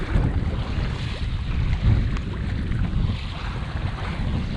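Strong headwind buffets the microphone while a canoe is paddled on open water, a loud continuous roar of wind with lapping water beneath it and no voices.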